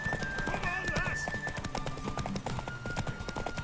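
In The Witcher 3: Wild Hunt, a horse's hooves clip-clop steadily up close while a neigh rises early on, under spoken game dialogue and background music.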